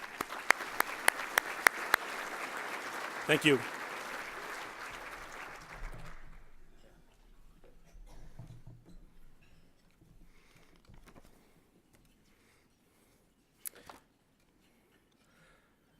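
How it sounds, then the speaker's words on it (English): An audience applauds students at the Bismarck-Mandan Chamber of Commerce Celebrate Bismarck-Mandan 2016 event. Dense clapping lasts about six seconds, then fades into quiet room noise with a few faint stray sounds, and a brief spoken thanks comes at the start. "Let's give them all a round of applause again,"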